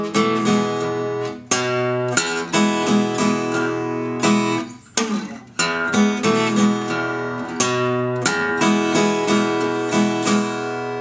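Delta blues acoustic guitar playing a transitional instrumental passage, with percussive plucked notes, brief pauses and slides, close and loud with no talking.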